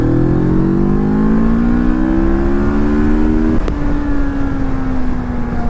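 A Moto Morini Seiemmezzo Scrambler motorcycle revs hard under throttle on a first ride, its loud, close engine note climbing steadily, dropping briefly at a gear change, then holding a steady drone.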